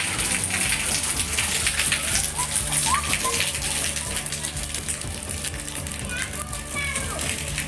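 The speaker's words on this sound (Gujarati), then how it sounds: "જો વરસાદ ચાલુ છે" Steady rain falls on a village street where a little water has collected, a continuous hiss that stays loud throughout while children play and chatter nearby.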